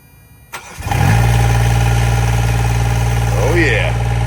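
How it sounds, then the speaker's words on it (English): A Green APU auxiliary power unit fitted with a new airbox cranks and catches within a second, then settles into a steady, loud, close-up idle hum with a brief higher whine near the end. "Let's fire it up and see what it sounds like with the new airbox in too."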